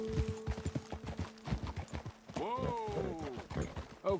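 Horses in the video game Red Dead Redemption 2, with quick clip-clop hoofbeats at a moderate distance and a short whinny partway through, heard without any talk.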